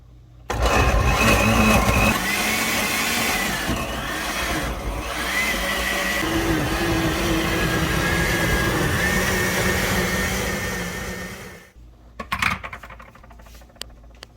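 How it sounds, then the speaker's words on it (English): A home blender runs loudly and steadily for about eleven seconds with a whirring, grinding roar, then stops, followed by a few clunks. "Our blender might not be as powerful as some, so we gotta help squish it down in there."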